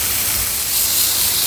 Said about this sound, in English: I'm gonna still most likely spray it with the alcohol at the end.